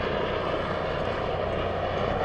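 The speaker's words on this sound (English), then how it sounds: "Another chopper." A helicopter flies overhead near a marina in Monaco, making a loud, continuous engine and rotor drone that stays steady throughout the short stretch, with no talking.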